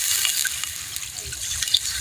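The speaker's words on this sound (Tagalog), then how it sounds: "At lagyan natin ng tubig galing sa balon." Well water pours into a cooking pot for chicken bulalo soup, a light trickling splash with scattered drips, moderately close and alone.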